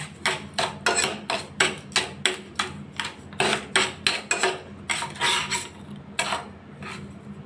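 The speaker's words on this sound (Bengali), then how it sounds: "এইভাবে এটা নাড়তে থাকবো" Mango rice pudding stirred in a pot, a spoon scraping and knocking against the metal in a steady rhythm of about two strokes per second, close and fairly loud with no talk.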